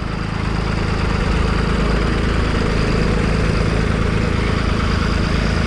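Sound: New Holland tractor engine running at slowest speed

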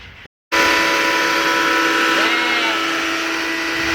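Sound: factory noise

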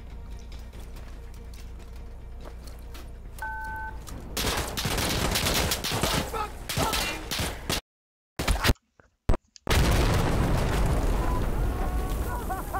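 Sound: explosion and gunfire in video game Insurgency Sandstorm

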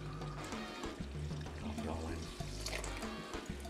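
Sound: tap water pouring into bowl

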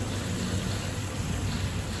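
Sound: water flowing in science centre water exhibit

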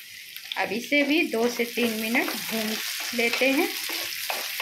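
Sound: chopped tomato frying in pan for paneer gravy

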